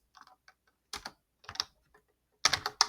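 A formula is typed on a computer keyboard in short, irregular bursts of crisp, close key clicks separated by brief pauses.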